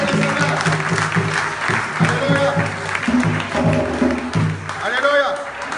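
A church congregation claps and cheers to praise the Lord at a Paris worship service, sustained applause mixed with voices and singing-like tones.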